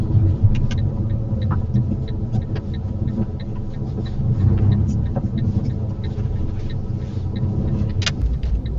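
A car pulls forward slowly during a UK driving test in County Durham, its engine a steady low rumble heard from inside the cabin, with faint clicks and rattles over it.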